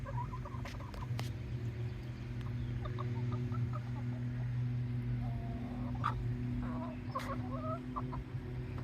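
Backyard chickens cluck softly in short murmured bursts while scratching in mulch, over a steady low hum, with occasional sharp ticks and rustles.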